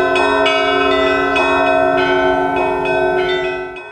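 Church bells in Limbaži, Latvia ring out in a rapid, overlapping series of strikes, their rich tones sustaining and blending, loud and close, fading slightly at the end.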